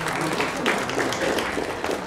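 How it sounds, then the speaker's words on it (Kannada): An audience claps at a Manipal Hospital World Kidney Day event, a dense, steady round of applause that carries evenly through the moment with a faint murmur of voices beneath. "ಮಣಿಪಾಲ್ ಹಾಸ್ಪಿಟಲ್ಗೆ ಒಂದು ದೊಡ್ಡ ಚಪ್ಪಾಳೆ ಮಾಡಬೇಕು ಪ್ಲೀಸ್."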